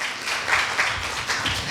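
At a Korea University speaking contest, an audience claps to welcome a professor to the stage, a steady, moderately loud patter of many hands with no talking.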